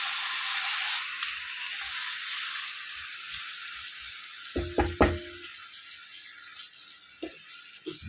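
Marinated chicken goes into a hot pan for steamed chicken, a soft steady sizzle with a few louder clattering bumps and scrapes of a utensil midway, close and fairly quiet, with no voices.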